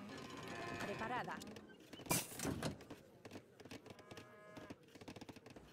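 Cattle lowing in the strategy game Age of Empires III: Definitive Edition, a couple of drawn-out moos amid game effects and a burst of clatter, with speech mixed in.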